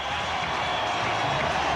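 A Test cricket crowd applauds Brian Lara's world-record 400 not out innings, a steady wash of clapping and cheering spreading across the stadium at a distance for the whole stretch.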